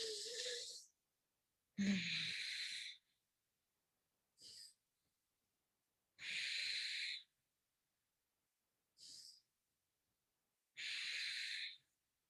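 Deep rhythmic breaths during a connected-breathing exercise, heard as six distinct breath bursts with silent pauses between them, close and unaccompanied by talk.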